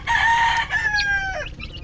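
Backyard chickens call in a short, close burst of clucking and crowing-like cries from a flock raised alongside forty-day-old chicks.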